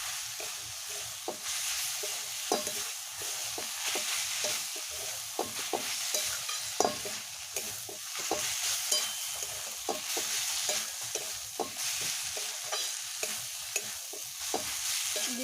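Khesari greens mixed with flour being stirred in a frying pan, with repeated scraping strokes at a steady rhythm over a soft, constant sizzle, close and moderately loud.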